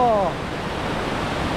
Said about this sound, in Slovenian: gor nad nama pa že buči slap